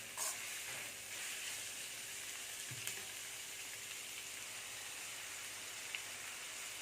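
Chicken masala sautés in an iron kadai with a faint, steady sizzling hiss throughout, a few soft clicks and a low thump near the middle, and no voices.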